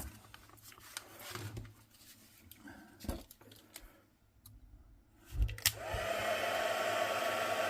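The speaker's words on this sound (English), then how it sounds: "let's get the heat gun onto it" A heat gun blows hot air onto gold embossing powder for a painted meadow background, starting as a steady loud whoosh that runs continuously over the final two seconds after scattered handling clicks and rustles.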